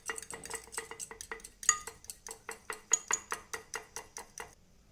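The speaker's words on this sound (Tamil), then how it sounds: "அதில் நம்ம எடுத்து வச்சுருக்க முட்டையை உடச்சி ஊற்றிட்டு அதை நல்லா மிக்ஸ் பண்ணி விட்டுட்டு" Eggs whisked with a fork or spoon in a bowl for a bread omelette, a quick steady series of bright clinking strokes against the bowl, close and alone.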